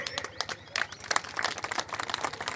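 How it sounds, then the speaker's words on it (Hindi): Audience members at a Gurjar reservation rally clap in loose, uneven bursts. The claps are fairly close and scattered, with sharp individual hand claps that mix with some background voices. "ताली मत बजाओ"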